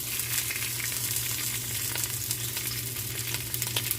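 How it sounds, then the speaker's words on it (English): Yellow snapper fish hit a hot oiled pot and sizzle loudly and steadily, a dense close crackle with occasional sharper pops and no voices. "Now I'm adding my fish to the pot."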